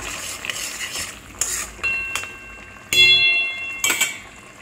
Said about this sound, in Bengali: এবার একটু ঘি দিয়ে দিলাম।